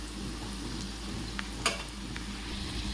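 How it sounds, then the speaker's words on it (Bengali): Onions fry in a pan with a steady, close hiss of oil and a few soft clicks and one brief knock of stirring, over a low background hum, with no voices. "পেঁয়াজটা একদম ভাজা ভাজা হয়ে এসেছে।"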